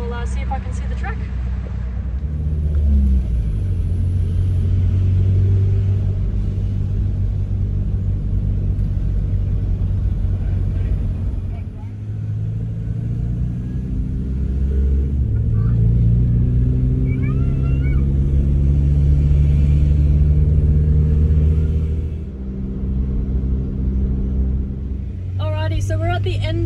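A car drives along a road near the Gold Coast in Queensland, Australia, a continuous low engine and road rumble inside the cabin with gear-like pitch rises as it accelerates; a person talks throughout.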